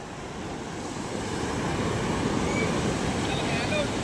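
Heavy ocean surf rolls and crashes continuously by a fish terminal in Tanza, with a steady roar of wind and water growing louder, and a voice faintly in the mix.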